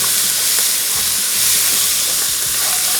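Vegetables stir-frying in a hot pan for a Shanghai chicken dish give a loud, continuous hiss and sizzle, broken by a few low clatters from the pan; nobody speaks.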